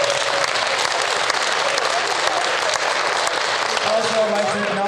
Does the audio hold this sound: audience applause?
yes